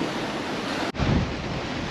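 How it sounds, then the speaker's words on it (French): Sea waves batter a sailing boat heading into them at sea, giving a constant loud wash and rush of water and wind with a brief dip, then a heavier surge of water. "On a les vagues contre nous, c'est pas très agréable."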